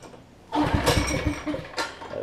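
A Generac 7500EXL portable generator with a faulty low-oil sensor cranks and catches, its engine running loud and rough for under two seconds before the sound tapers off.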